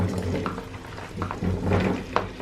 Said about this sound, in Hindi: सबसे पहले हम आलू को फ्राई करेंगे